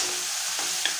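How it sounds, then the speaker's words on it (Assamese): Chopped onion fries in a pan, making a steady, close, bright sizzle with a soft stir and a brief tap near the end, with no voices. "আৰু এইখিনি অলপমান ৰঙচুৱা হোৱাকৈ ভাজি ল'ম"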